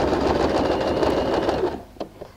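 Sewing machine stitching a seam on a handbag, a steady close whirring run of needle strokes lasting most of the moment, then stopping abruptly, followed by a couple of faint handling clicks.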